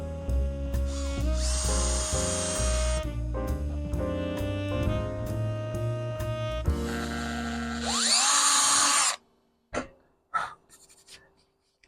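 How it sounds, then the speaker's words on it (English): A power drill whirs loudly in several bursts while boring holes in a shop stool's parts, its pitch rising and falling, then stops and leaves short clatters. "Okay, now let's drill some holes."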